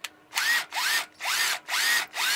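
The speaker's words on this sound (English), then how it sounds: "I want to go through with a smaller drill bit, because then I can work to the bigger one" A power drill with a small bit bores into bunk bed timber in five short bursts, each spinning up with a rising whine and cutting off, close and loud, separated by brief pauses.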